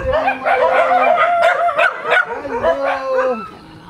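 A dog, one of several rescue dogs at a shelter, gives short yips and whimpering barks in quick succession, close and fairly loud, with a long whining tone running underneath.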